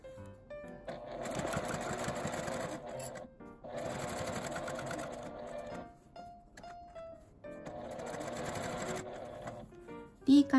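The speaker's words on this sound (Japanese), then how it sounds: "切り替えのところは手回しでミシンを回します" A sewing machine stitches a small L-shaped zipper pouch in three long, steady whirring runs, each separated by a pause. The hand-turned wheel is worked slowly at the seam joins, and a voice speaks faintly in the background.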